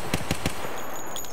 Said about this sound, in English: I've got that burst fire, by the way. It looks like single fire. That's how good the Vector is.